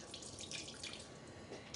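Tap water runs steadily over a netted dishcloth being rinsed in a sink, a close continuous splashing hiss with no talk.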